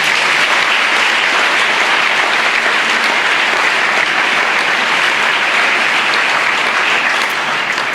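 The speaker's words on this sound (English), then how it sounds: "please can I ask that we give the second place house a round of applause" A school speech day audience applauds the second-place house in the House Cup, a dense, loud and sustained clapping that fills the hall evenly from start to finish, with no voices over it.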